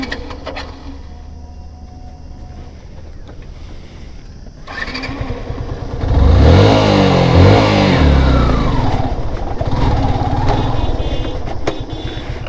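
A motorcycle engine revs up loudly and close from about the six-second mark, holding a strong throaty roar after a quieter idling start, with no talk over it.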